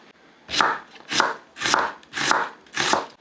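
Five steady knife strokes slicing through a king oyster mushroom on a cutting board, evenly spaced and close up, with no talking.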